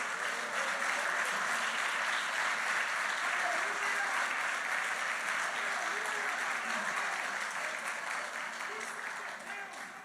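A church congregation applauds in sustained, dense clapping that fills the space at a steady level for about ten seconds, thinning slightly toward the end with no voices above it.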